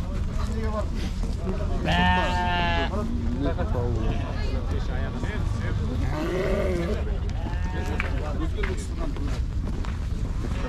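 Several sheep, including small young ones, bleat over a constant low engine-like rumble at a livestock market in Uzynagash, Almaty Region, Kazakhstan, with people talking nearby among the animal calls.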